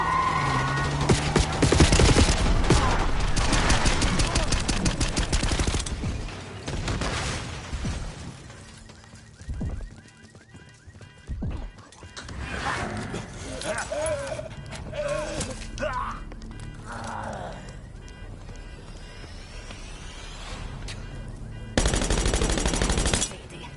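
Bursts of automatic gunfire and shots ring out during a street shootout against an oncoming limo in Black Ops 6, loud rapid volleys with pauses, then a final heavy burst, with shouted voices mixed in.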